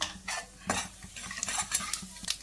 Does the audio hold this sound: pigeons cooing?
no